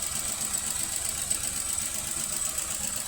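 A car engine idles steadily with one ignition coil removed, giving a continuous even rumble with a slightly uneven low pulse and a faint high whine, close and alone.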